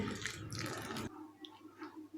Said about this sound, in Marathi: इथे मी गरम पाणी ओतत आहे